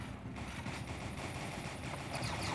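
Continuous rattling gunfire from a gun in a video game, steady and fairly loud with no clear breaks, no talk.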